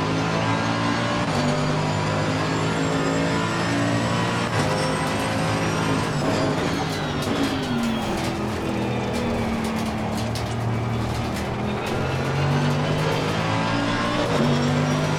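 Race car engine in Assetto Corsa Competizione, a loud, steady in-car drone with pitch rising and falling through gear changes and braking across the lap, with occasional tire noise.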